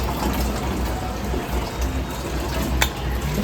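Tap water runs steadily from a household faucet into a container to fill drinking water, a continuous close splashing rush throughout with one brief sharper clink near the end.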